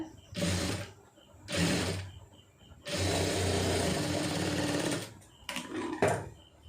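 A sewing machine stitching a blouse seam during tailoring: close, buzzing whirs of the motor and needle in three main bursts, the longest about two seconds, separated by short pauses.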